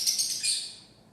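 Small birds, sparrows, chirping in a quick bright high-pitched flutter that fades toward the end, with no voices over it.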